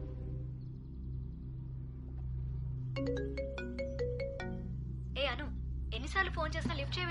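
A phone ringtone plays a bright, repeating melodic pattern over a low rumbling background and goes unanswered, followed by a voice speaking briefly near the end.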